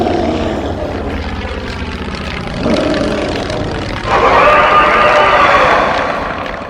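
A propeller plane in a LEGO-themed video game drones steadily, its engine hum rising in two stages into a louder, higher whine as it takes off, with no talk over it.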